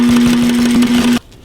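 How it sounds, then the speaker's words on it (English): Loud, close sewing machine running a steady row of stitching along a seam on a stove jack for an Otter Hub portable ice house, a continuous hum that stops abruptly near the end. "I'm just gonna run another row of stitching just along next to this one to clean that up"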